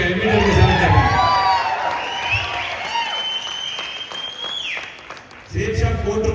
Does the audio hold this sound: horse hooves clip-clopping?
no